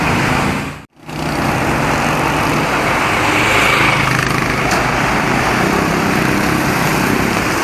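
A small rented motorbike's engine runs steadily at close range on a hot island road, a loud continuous buzzing drone that briefly cuts out near the start and then resumes without talk.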